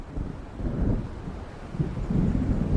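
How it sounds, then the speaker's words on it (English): Low thunder from an approaching storm in the video game Alan Wake, rumbling in slow swells that build toward the end, with wind noise and no talking. "It seems there's a storm coming."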